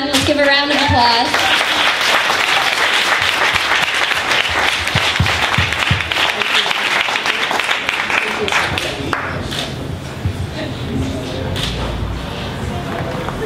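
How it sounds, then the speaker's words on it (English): An audience gives loud, sustained applause after a kirtan at the grand opening of the Veda Yoga Center. The clapping thins toward the end. "Let's give a round of applause."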